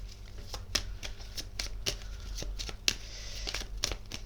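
A deck of cards is riffled and shuffled repeatedly, sharp rapid flutters recurring about every half second against quiet room tone, close and moderately loud.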